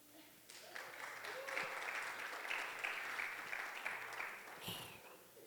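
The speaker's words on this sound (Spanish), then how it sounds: "si usted no sabe por qué están aplaudiendo" A church congregation applauds during a sermon, a steady wash of clapping that rises in and holds, fairly distant and quiet, with a faint tonal hum underneath and a brief sharp sound near the end.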